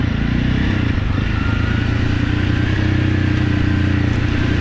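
A twin-cylinder rally motorcycle engine runs steadily, a loud, close, even low drone with a smooth throb and no breaks.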